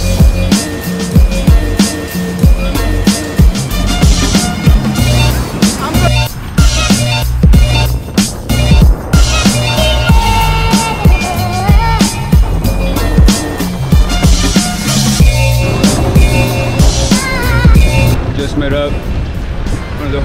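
A fixed gear bike rolls through New York City streets with continuous loud road and wheel noise, bumps and clatter, and busy traffic surrounding the ride.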